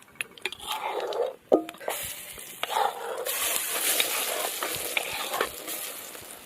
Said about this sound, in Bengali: এখানে আমি হিং আর তার সাথে কালো জিরে ফোড়ন দিয়ে দেবো।